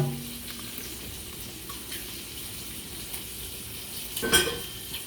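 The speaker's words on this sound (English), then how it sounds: "You can still hear my meat cooking." Kielbasa sizzles steadily in a hot pan, a constant crackling hiss close by, with a brief louder burst of sizzling near the end.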